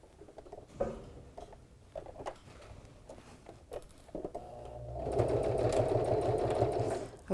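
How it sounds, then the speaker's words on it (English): A sewing machine runs a half-inch seam on a fabric grocery bag dispenser with elastic, starting in short bursts with pauses and handling noise, then a loud, steady close whir for the last two seconds. "So we're going to sew this with a nice 1/2 inch seam."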